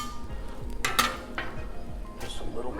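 A metal scraper clears food residue across a hot Blackstone griddle surface during a beef noodle stir fry, producing short scrapes and clinks with a faint sizzle beneath, close and moderately loud.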